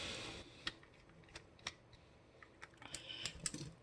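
Screws being removed from a Vector during a battery replacement, faint close-up clicks and small metallic taps from a screwdriver at irregular intervals, very quiet with no talking.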